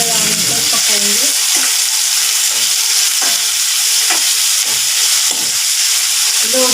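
Onions sizzle in a pan while being cooked until brown, a loud, continuous frying hiss broken by repeated scraping knocks from stirring.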